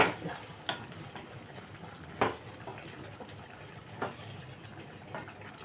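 Liver and egg curry being stirred in a pan just after water goes in, a few scraping spoon strokes over a low simmering hiss, fairly quiet with no talk.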